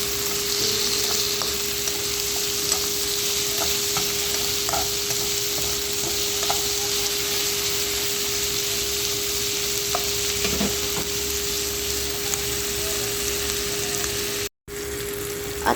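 Onion and tomato sautéing in a pan, a constant close sizzle with occasional stirring scrapes and light pops, plus a steady hum throughout and a brief dropout near the end.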